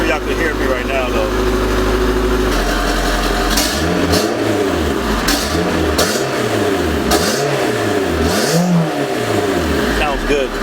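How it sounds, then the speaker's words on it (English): A car with an aftermarket exhaust idles with a deep drone, then is revved in several rising and falling surges, loud and close, with no talking over it. "I'm not gonna rev it too much. I don't want it to freaking mess anything up, but it sounds good."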